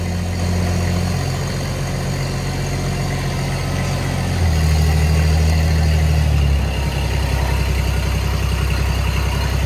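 A car engine idles just after a choked cold start at -3° on a freezing Christmas day, running rough and loud close by, with its steady low drone shifting in pitch partway through.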